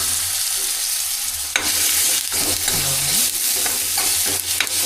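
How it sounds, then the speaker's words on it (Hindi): Dal tipped into a hot cumin tempering in a pan sizzles loudly and continuously, with scraping stirring strokes and a few clinks of the spoon close up. "अब इसके अंदर दाल को अपनी फ्राई कर लेता हूँ"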